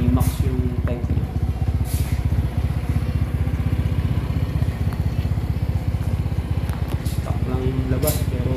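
Honda Genio scooter with a 140cc bore-up on its stock ECU, revving close by with a steady, loud, pulsing engine note that rises briefly near the start and end.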